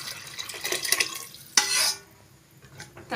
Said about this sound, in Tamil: தண்ணி சேர்த்துட்டு நல்லா கலந்து விட்டுலாங்க.